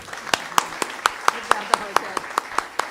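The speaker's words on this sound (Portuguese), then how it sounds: "para quem eu peço aplausos de boas-vindas" Sparse, evenly spaced claps ring out in a hall as a small audience welcomes someone speaker to a literary talk, each sharp hand strike distinct and moderately close, with a low murmur beneath.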